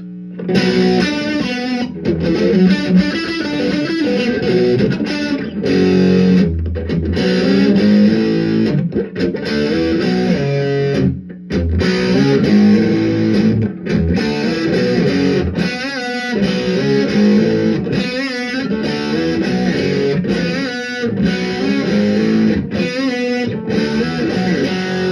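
Loud, buzzy electric guitar riffing through a cheap distortion pedal with a fuzzy, gritty edge, strummed chords broken by short pauses, played alone with no voices.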